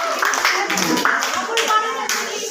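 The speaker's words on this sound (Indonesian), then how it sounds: "Tepuk tangan buat kelompok terakhir." A class of children clapping for the last group to present: brisk, uneven group applause close by, with children's voices chattering over it.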